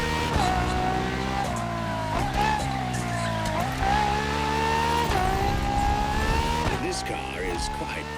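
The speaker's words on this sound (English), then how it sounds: "For this second lap, you'll be driving the FXXK." Ferrari FXXK supercar in The Crew Motorfest, a loud, steady engine drone with rising and falling pitch as the car shifts and revs, plus brief tire squeal, all under continuous talk.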